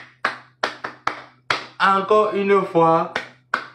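Several sharp hand claps ring out in an uneven, spaced rhythm, close and loud, pausing while a person speaks, then one more clap follows.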